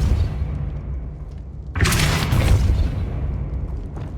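A Depulso force spell lands in the Hogwarts Legacy video game, a sudden loud booming burst that hits midway and then trails off into a rumbling wash over steady low game ambience.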